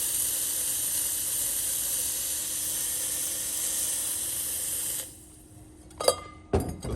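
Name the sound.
espresso machine steam wand hissing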